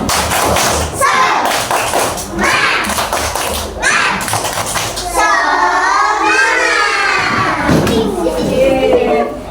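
Kindergarten children in a classroom perform the tepuk semangat clapping chant. Loud rhythmic bursts of claps and stamping mix with their voices, and the clip ends in a sung, chanted stretch from the group.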